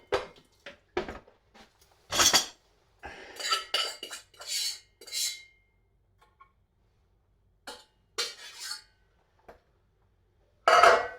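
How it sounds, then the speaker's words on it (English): Cooked macaroni tipped from a pot into a colander makes scattered metallic clanks and wet clatters in short bursts, close by, separated by quiet gaps. "I'm going to take the macaroni and just put it through the colander"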